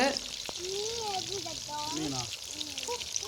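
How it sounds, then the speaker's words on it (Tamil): Masala-coated fish frying in a pan outdoors at a village family gathering, a continuous sizzle heard under nearby voices talking. "வெளியே தான் அப்படியே பெரியமா வந்து ஃப்ரை பண்ணி கொடுத்துட்ருக்காங்க"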